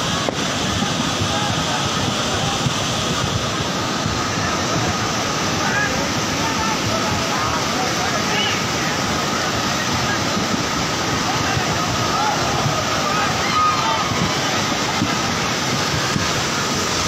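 The flooded Fakfok river in Ilam, Nepal roars in a heavy, continuous torrent, loud and close and steady throughout the long stretch.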